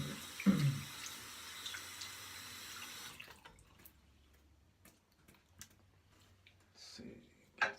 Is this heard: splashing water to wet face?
yes